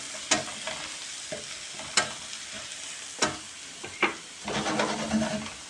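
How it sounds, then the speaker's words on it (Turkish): A spoon stirs leeks in a pot after black pepper and chili flakes are added. Several sharp scrapes and clinks ring out against a soft sizzle that swells near the end, with no voices. "Ve şöyle bir karıştıralım."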